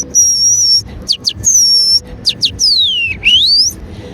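A man whistles imitations of weaver birds, the nest-building birds that raid maize fields, producing a run of sharp, high chirps, trills and sliding whistles up close, with a few short pauses between phrases.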